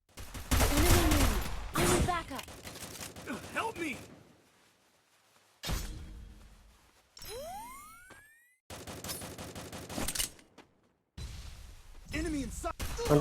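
Gunfire from the mobile battle-royale game Free Fire, with bursts of shots and whooshing effects in separate loud bursts broken by quiet gaps, and people talking excitedly over parts of it.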